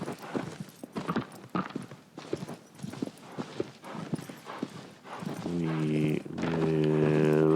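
Agro the horse's hoofbeats in Shadow of the Colossus, a steady clip-clop of hooves trotting at a close, even rhythm, followed near the end by a rising musical tone.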